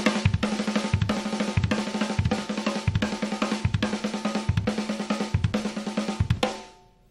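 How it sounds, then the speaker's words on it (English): A six and two pattern on snare and kick drums, dense fast strokes grouped with recurring low accents, loud and close throughout, ending with a ringing decay. "A six and two pattern would sound like."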